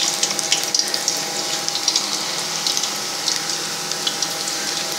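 Round slices of raw banana fry in hot oil in a home kitchen, giving a steady close hiss with frequent small crackles and pops, and no talk.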